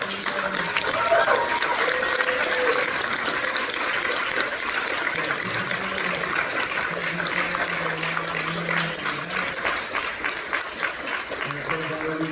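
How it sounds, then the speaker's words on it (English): An audience at a civil liberties defense conference applauds a panel with dense, sustained clapping that fills the room for about twelve seconds, while a voice carries faintly beneath it. "Can we get a round of applause for our panel?"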